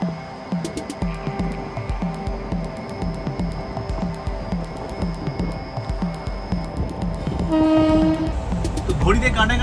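An ICF passenger train pulls out of Chhapra Junction. Its wheels beat a loud, rhythmic clatter over the rail joints, and near the end a long horn blast sounds close by over the rising rumble.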